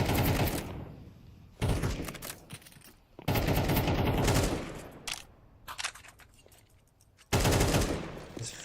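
Rapid automatic gunfire bursts in a Counter-Strike match, several loud sustained volleys separated by quieter gaps with scattered single shots.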